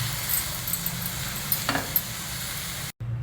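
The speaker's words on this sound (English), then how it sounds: "add in this soaked poha as required and again mix everything well together" Soaked poha is stirred in a pan over a low flame, with a soft, continuous sizzle under scraping strokes and a few light spoon taps, before a momentary cut to near silence.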